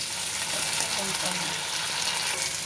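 Ginger and green chilli spice paste frying in a pan for a light katla fish curry, a steady close sizzle with faint stirring throughout.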